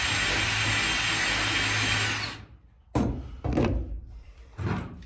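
A drill bores through wood battening on a narrowboat, a loud continuous grinding whir that cuts off, followed by short rough bursts of the bit catching and scraping in the hole.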